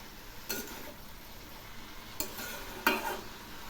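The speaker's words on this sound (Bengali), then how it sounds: "এই কপিগুলো খুব ভালো করে ভেজে নেব" Cabbage stirring and frying in a pan, a low constant sizzle broken by three scraping stirs of a spatula, close and fairly soft, with no talking.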